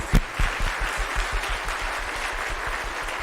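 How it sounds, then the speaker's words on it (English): Audience applause rings out after a children's choir performs at a spring community concert, a dense, steady wash of many hands clapping with a few sharper claps near the start, holding at an even level throughout. "Let's give them a round of applause."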